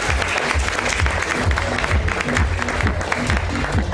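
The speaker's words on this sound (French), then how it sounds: "On peut applaudir à la poète." At a slam poetry contest, the audience claps loudly and densely for a poet after her scores are read, a sustained close ovation with no voices on top.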